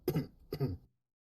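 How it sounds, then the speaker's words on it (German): Two short, gruff throat clearings in quick succession, close and fairly quiet, followed by silence. "hört er dieses überhebliche Räuspern?"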